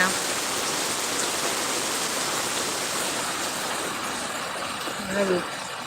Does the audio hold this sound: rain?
yes